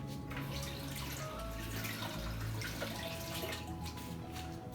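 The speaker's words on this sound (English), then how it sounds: "I'm gonna wash my lime" Tap water running over a lime being washed in a home kitchen, a steady gentle splashing stream, fairly quiet and close, with no talking.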